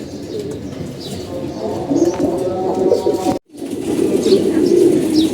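Pigeons in a flock coo steadily and close by, with a continuous low murmur that cuts out for a moment midway before resuming.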